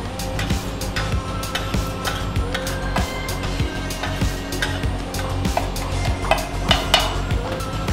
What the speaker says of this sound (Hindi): आलू डालने के बाद इसको हम अच्छी तरह से चला लेंगे ताकि जो पूरा वेजिटेबल्स है वो सब मिक्स हो